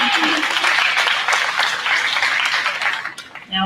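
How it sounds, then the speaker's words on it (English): A county fair show audience gives a steady round of applause after junior showmen placings are announced, dense clapping that holds for several seconds before tapering, with a brief voice rising at the end. "Let's give them a round of applause."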